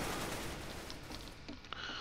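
Counter-Strike: Global Offensive gunfire crackles through a dense, noisy game mix, with a few sharp shots and bursts standing out near the end.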